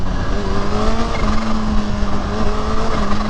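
Kawasaki Ninja H2 supercharged motorcycle engine running hard at full throttle, a loud steady drone with rising tonal whine and a fluttering texture, close and continuous with no talking.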